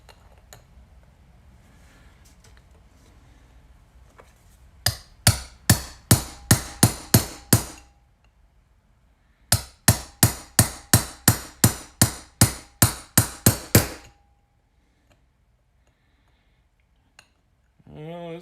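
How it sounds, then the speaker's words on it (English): A hammer taps a metal punch in a workshop, two quick bursts of about ten sharp, ringing strikes each in a steady rhythm, with a short pause between the bursts and quiet room noise around them. "Couple taps with the hammer."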